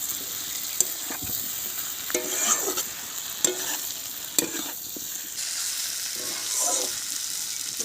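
Potatoes get stirred in a frying pan with hot oil, a constant hiss punctuated by sharp spoon clicks and scraping strokes, close by with no voices.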